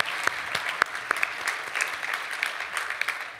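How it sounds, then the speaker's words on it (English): Moderate audience applause at a benefit dinner, a crowd of scattered hands clapping with a few sharper individual claps standing out, continuous and fairly even. "Yes, you can clap for that."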